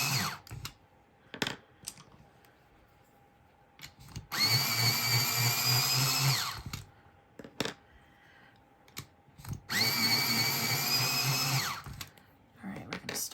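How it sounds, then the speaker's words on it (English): Colored pencil sharpened in a pencil sharpener, heard as two loud whirring bursts of about two seconds each, separated by quieter handling clicks and taps. "I'm going to sharpen real quick."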